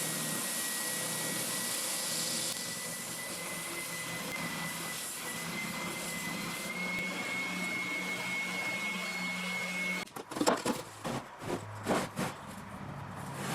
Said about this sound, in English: I took it over to the spindle sander to clean it up and get it right to the edge.